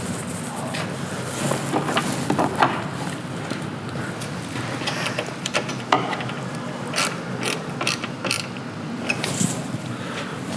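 Ratchet wrench loosening the docking hardware bolts on a Harley-Davidson motorcycle, heard as close, repeated clicking pawl bursts with brief pauses and small metallic clanks across the whole stretch, no talking.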